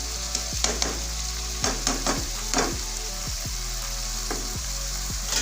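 Steady sizzling of boiled lentils frying with tomato paste and spices in a pan, with occasional scraping clinks of a spoon stirring, continuous and close.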